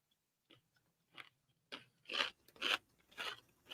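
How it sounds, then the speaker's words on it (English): A person chews food up close, with a few soft crunches at first building into louder, wet, rhythmic bites about every half second, and no speech over them. "When you're done chewing."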